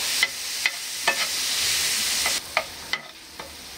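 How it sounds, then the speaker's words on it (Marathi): Ginger garlic paste sautéing in a hot pan, a steady sizzle broken by several spatula scrapes and stirs at a regular pace, close up with no talk. "आलं लसूण पेस्ट पण एक अर्धा मिनिट कच्चा पण जाईपर्यंत असं परतून घ्यायचं"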